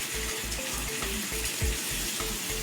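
Water is poured into a pot of half a kilo of mutton with meat masala, a steady splashing trickle with a low rhythmic bubbling underneath, close by.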